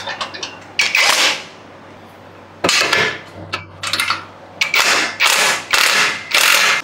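Ratchet wrench tightening a clamp on a Max Racing catback exhaust for a GR Yaris, a DIY fit: several close bursts of rapid clicking, separated by short pauses.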